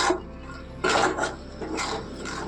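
Sugar stirred into a sweet kheer-style filling for potol mishti in a pan, a few scraping, clinking strokes of a spoon against metal in short bursts, fairly close, with no talking.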